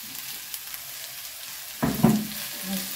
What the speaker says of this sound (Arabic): ويتقلات لينا البصل والثوم على هاد الشكل هذا، تحمرات شوية، غنضيفو بشوي بشوي لي زيبيناغ ديالنا